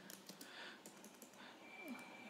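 Faint typing on a computer keyboard gives a short run of quick, light clicks in a quiet room.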